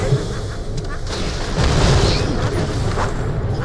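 A grenade explosion in the video game Borderlands The Pre-Sequel, a loud rumbling boom mixed into ongoing game noise and dense background clatter, with voices present.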